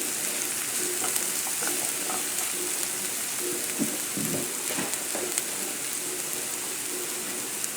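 Spinach sizzles steadily in a hot pan for a pasta with brown sauce, a continuous bright crackle with scattered pops and light stirring, close and even throughout.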